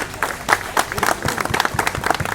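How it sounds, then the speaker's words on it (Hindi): Scattered applause from an audience at a Gwalior ceremony honoring social workers, uneven claps and crowd noise rising and falling briefly in a reverberant hall. "आप सबसे जोरदार तालियां बजाइए"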